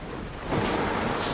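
Muffled underwater ambience in a video game, a dense rushing, sloshing wash that swells louder halfway through and stays steady with no voices.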